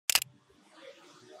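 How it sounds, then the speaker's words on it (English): A single sharp camera shutter click, close and crisp, followed by a faint mechanical tail and near silence. "the shutter in your camera opens for a set amount of time"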